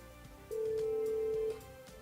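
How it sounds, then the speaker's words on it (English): A Yealink desk phone auto-dials a transfer call, giving a single steady tone about one second long, close and clean over a faint background hum, without speech. "Dial the number you want to transfer to and pause until the call auto dials."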